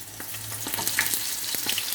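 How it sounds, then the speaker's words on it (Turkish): Eggplant sizzles and crackles steadily as it fries in hot oil, with a few soft clicks and scrapes of stirring, close by and without talk. "Patlıcanlarımı da kızartıyorum."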